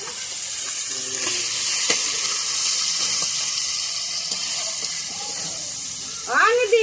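Cumin seeds sizzle in hot oil in a pan used for frying fish for a Bengali fish-head dish, a loud steady hiss up close, with a brief voice and a few faint clinks over it.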